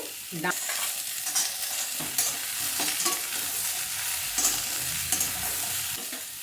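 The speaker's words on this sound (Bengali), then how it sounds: "আবার একটু ভাজা ভাজা করে নিচ্ছি" Vegetable stalks fried with green chillies in a pan make a steady close sizzle, broken by repeated scraping stirs of a spatula, with no voices.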